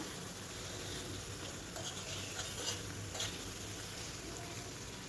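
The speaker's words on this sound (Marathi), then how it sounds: "आपलं वाटण हे छान असं फ्राय होत आहे." Coriander-heavy green spice paste frying in a pan, a steady close hiss and sizzle with faint scraping from stirring throughout.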